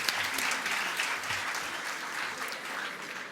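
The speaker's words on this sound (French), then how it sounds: "on peut applaudir Monsieur Rakiwi" Applause for a speaker at a talk on preparatory classes: a dense, continuous round of clapping from a seated audience, steady and moderately loud throughout, with slight swells but no pause.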